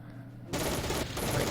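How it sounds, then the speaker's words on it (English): Machine gun fire in the Battle Academy 2 war game: after a short quiet lead-in, a sudden loud burst of rapid, dense shots fills the rest of the moment. "So a lot more MG fire, our guys are firing back"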